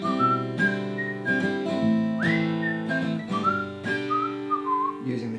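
Whistled melody from the outro of a song, a clear, wavering tune carried over sustained strummed chords, close and fairly loud with no speech.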